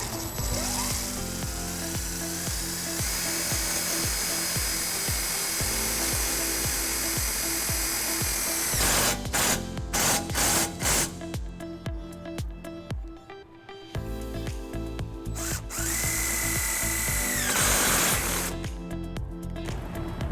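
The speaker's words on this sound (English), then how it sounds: "We'll be using the provided self-tapping screws that come with the kit." A power drill drives self-tapping screws to mount a wiring harness bracket on a 2012 GMC Canyon. The motor whirs in repeated bursts of varying length, with short pauses between, close and fairly loud.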